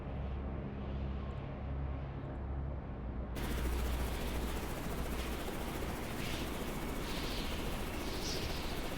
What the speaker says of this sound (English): I saw shooting just then coming from that base.